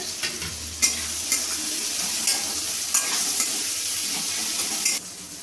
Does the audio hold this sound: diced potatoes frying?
yes